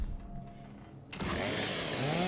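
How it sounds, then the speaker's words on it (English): A chainsaw cuts through an enemy in Gears 5 on an Xbox Series S, starting suddenly after a quiet second as a loud, rising engine whine with a thick, gory grinding roar. "Chainsaw"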